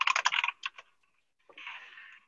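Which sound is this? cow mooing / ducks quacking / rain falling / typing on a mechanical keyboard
typing on a mechanical keyboard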